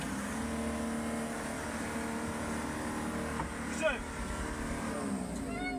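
A pickup truck's engine strains and drones steadily as it bogs down in mud off the road during a military operation in Burkina Faso, the hum continuous under a voice speaking.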